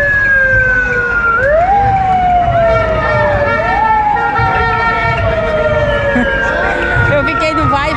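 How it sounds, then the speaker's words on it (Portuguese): An ambulance siren wails continuously during the São João festival in Braga, Portugal, its pitch sweeping up and down in repeated cycles, loud and close, with traffic rumble underneath. "Ambulância."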